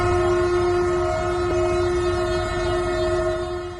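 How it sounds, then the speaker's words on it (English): Train horn sounding loud and sustained near a level crossing, a steady blaring tone holding for nearly four seconds over rumbling rail noise. "A train slammed into a truck stuck on a level crossing near Dr. Federico Maroi Hospital."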